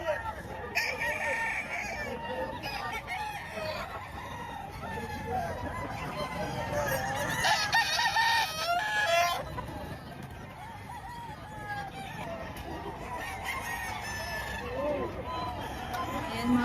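A rooster crows among steadily clucking chickens at a market in Padre Garcia, Batangas, with voices talking in the background throughout.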